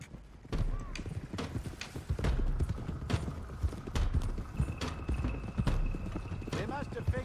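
Horses gallop in the Red Dead Redemption 2 video game, with rapid, close clip-clop hoofbeats under steady talking voices. A brief whinny cuts through the rhythmic drumming.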